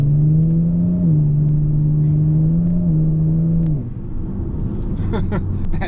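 A 2018 Kia Stinger GT AWD's engine hums steadily at half throttle and rises in pitch twice as it accelerates, then drops off near the end, loud and close throughout.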